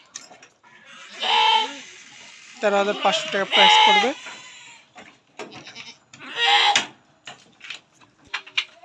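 A Sirohi goat at a goat farm bleats in several short calls, mixed with someone talking close by about prices.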